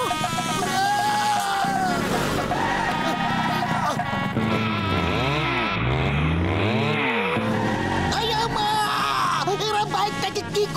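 A cartoon motorcycle, Chingum's freshly serviced bike in Motu Patlu, races out of control: whining, swooping engine tones with skidding squeals roar continuously and loudly, rising and falling in pitch throughout.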